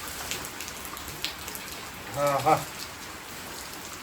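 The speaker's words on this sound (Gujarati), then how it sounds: "ચલો લાઈવ જો વરસાદ લાઈવ પડી રહ્યો" Rain falls on a village farm field in Gujarat where buffaloes are being milked, making a steady, even hiss; a short voice cuts in briefly midway.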